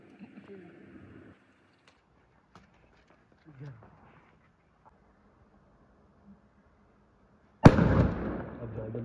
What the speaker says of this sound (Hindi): इसमें जा रहा हूँ बम लगाने